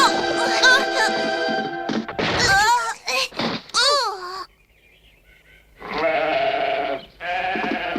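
Wool-covered sheep bleat on a farm in several wavering, harmonic calls, a cluster early on and two longer bleats near the end after a short quiet gap.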